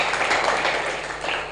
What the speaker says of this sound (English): Let us give him another round of applause